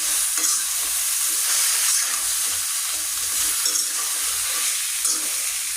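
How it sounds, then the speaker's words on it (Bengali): Grated raw mango stirred in a hot pan for pickle, a continuous loud sizzle and frying hiss with steady scraping strokes of the stirring, close up and alone throughout. "আমি সুন্দর করে নাড়াচাড়া করে নেব যাতে কড়ার সাথে আম মিশে না যায়।"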